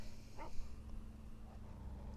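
A dog whimpers softly in The Walking Dead video game, a brief high whine early on over a steady low hum and faint background noise.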